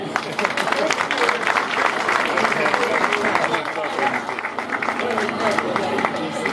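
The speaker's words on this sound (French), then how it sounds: "Applaudissez." Loud, dense clapping from a school audience after a speech at a school event, continuing steadily with crowd noise and some voices mixed in.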